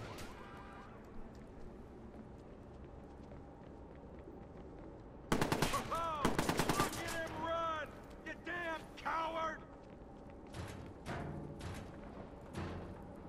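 Gunfire in Watch Dogs, bursts of rapid automatic shots starting abruptly midway and returning in shorter volleys, loud against a quiet ambient background, with voices speaking earlier and between bursts.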